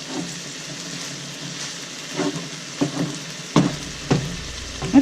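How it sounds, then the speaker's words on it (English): Ground beef frying in a pan for keto spaghetti, giving a soft steady sizzle with a few sharper pops and clacks of stirring toward the end; no one speaks. "we're gonna finish cooking this ground beef here"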